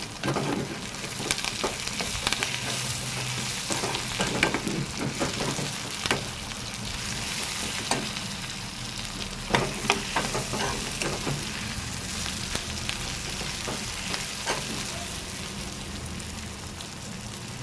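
Steady sizzling of coconut frying in a pan, with repeated scraping clicks of stirring throughout; no talking.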